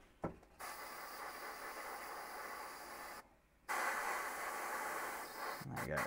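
Airbrush hissing steadily as it sprays paint onto a model, a continuous close broadband hiss broken by brief pauses where the trigger is released.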